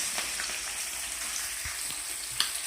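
Chopped onions fry in hot oil for a dried fish curry with tender tamarind leaves, giving a steady, close hiss of sizzling with scattered crackles and one sharper pop near the end, with no talking.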